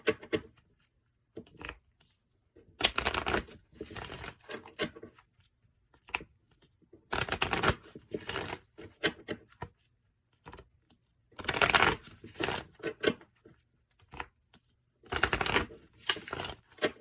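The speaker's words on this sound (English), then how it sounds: "I'm going to go ahead and start to shuffle" Tarot card decks being shuffled by hand, with repeated crisp riffling bursts of a second or so, separated by quieter pauses and soft card handling, close and fairly quiet with no talking.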